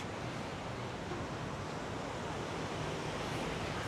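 Steady broadband wash of ocean surf at My Khe Beach in Da Nang during the rainy season, a continuous roar of breaking waves with no distinct individual crashes and no voices.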